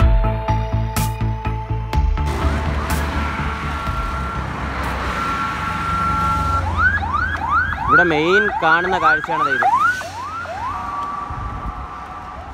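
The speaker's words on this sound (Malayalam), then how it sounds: "മണിക്കൂറിൽ കുറഞ്ഞത് ഒരു 3 ആംബുലൻസ് എങ്കിലും നമുക്ക് കാണാൻ പറ്റും ഈ ഹൈവേയിൽ കൂടി പോയാൽ" An ambulance siren wails in a rising and falling pattern as it passes along a highway near Attingal, Kerala. It follows a few seconds of horns and traffic beeps, and someone talks briefly.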